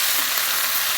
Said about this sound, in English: It's still frying, and the potatoes are starting to get a little fried already